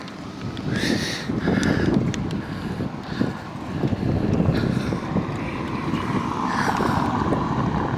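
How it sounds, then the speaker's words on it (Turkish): Strong wind roars steadily across the microphone in a continuous low, gusty rumble at sea, with faint water or boat noise underneath. "Rüzgar çok yoğun."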